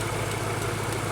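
A car engine idles with the bonnet open, a steady low mechanical rumble heard up close without any voices.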